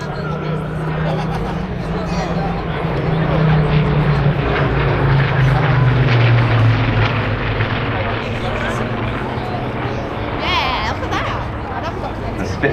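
Spitfire aircraft flying past at the Blackpool airshow, a steady engine drone that swells to a louder pass midway and then eases, heard over crowd babble and a voice commentating.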